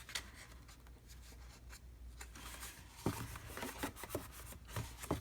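Cardboard tray support pressed and slid against the inside wall of a handmade DIY gift box, giving quiet, intermittent scraping and rubbing with a few sharper scuffs near the end.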